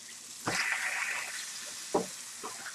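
Salmon fillet, browned to blackened on one side, frying in a pan right after being flipped: a soft steady sizzle throughout with a couple of sharp clatters of the pan or spatula, no talking.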